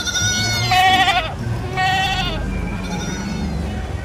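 A goat bleats loudly and close, two or three long wavering cries in succession, the first strongest and the last fading.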